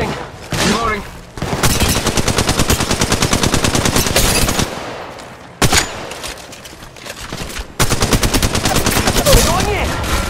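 Rapid automatic gunfire rattles loudly in Apex Legends Mobile, with long sustained bursts broken by short gaps, then a sharp resumption and more sustained firing.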